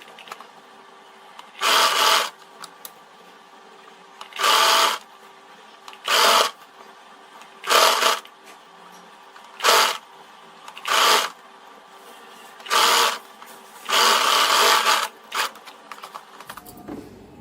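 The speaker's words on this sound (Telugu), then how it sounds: "ఇలా చూసుకుంటూ వెనకాల దాన్ని సపోర్ట్ చేసుకుంటూ కుట్టేసేయాలి." Sewing machine stitching an origami-style blouse sleeve in short, loud bursts of rapid whirring, about eight separate runs with pauses between them, close up over a faint steady hum.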